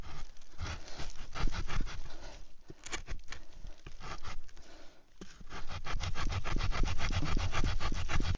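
Hand sawing through a piece of wood to cut a bow drill spindle to length, a steady run of rasping back-and-forth strokes, close and fairly loud, with a short pause midway before the rhythmic strokes resume.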